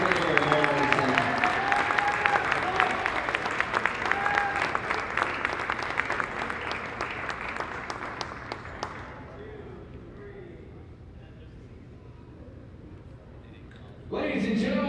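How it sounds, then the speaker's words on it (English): A basketball crowd applauds senior players on a college senior day, broadband clapping filling the gym for about nine seconds before fading to a murmur, then a voice speaks briefly at the end. "another round of applause for our 5 seniors"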